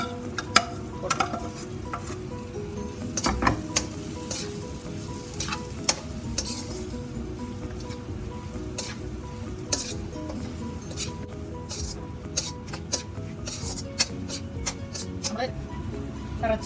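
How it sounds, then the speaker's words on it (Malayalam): Fried beef for a Kerala-style beef pickle is stirred in a hot pan, with a steady close sizzle and repeated clinks and scrapes of a spoon against the metal throughout. "നമുക്ക് വറുത്ത് വച്ചിരിക്കുന്ന ഇറച്ചി ചേർത്ത് കൊടുക്കാം."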